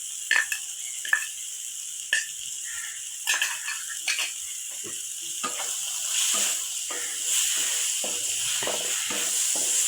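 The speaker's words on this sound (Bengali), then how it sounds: "আমি এখানে রসুন পরিমাণ মতো নিয়েছি, একটু ভালো করে তেঁতলে রেখেছিলাম, এখন এগুলো দিয়ে দিচ্ছি।" Crushed garlic dropped into hot oil crackles and sizzles with a steady hiss, broken by sharper pops and stirring scrapes early on, close and fairly loud.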